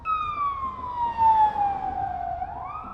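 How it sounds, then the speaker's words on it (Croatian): A distant emergency siren wails in a slow falling sweep, heard from a Sym Joyride 300 scooter on the road, with low traffic and engine rumble underneath. "Čuje se neka sirena"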